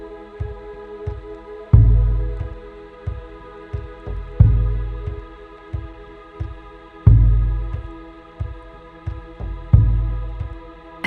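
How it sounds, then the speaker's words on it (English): Synthetic heartbeat from a Muse meditation app, a deep low thump pulsing in a steady rhythm over a soft sustained hum, with stronger beats recurring every couple of seconds. "When your heart rate increases, the sounds you hear will become louder and faster"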